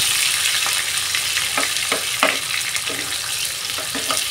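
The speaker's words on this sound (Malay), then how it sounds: "Kita akan goreng bawang ni sampai dia layu ya, sampai dia garing" Onions are fried in hot oil in a pan, with a continuous bright sizzle broken by several sharp crackles and stirring scrapes, close and loud, with no talk.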